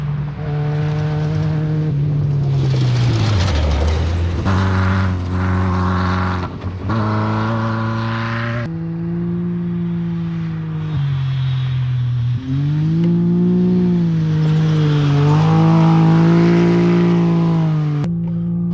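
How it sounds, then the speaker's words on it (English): A Class 8 desert race truck roars past during an off-road race, its loud engine note rising and falling through gear changes, close and continuous with no talk over it. "that was the end of the second lap for Rich in the big Class 8"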